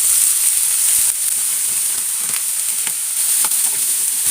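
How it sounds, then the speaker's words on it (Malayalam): Chopped onions frying in hot coconut oil in a pan, a loud, close, unbroken hiss of sizzling with faint occasional ticks and pops. "ചൂടായ പാനിലേക്ക് വെളിച്ചെണ്ണ ഒഴിച്ചിട്ടുണ്ട് അതിലേക്ക് നമ്മൾ ഒരു രണ്ട് സവാള കൊത്തി അരിഞ്ഞത് ഇട്ട് കൊടുക്കുന്നുണ്ട്"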